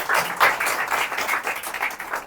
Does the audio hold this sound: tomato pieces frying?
no